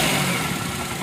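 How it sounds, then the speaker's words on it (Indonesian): The engine of a used, flood-damaged car idles in a brief, steady, close rumble with an even mechanical churn. "Seperti ini suara mesinnya teman-teman"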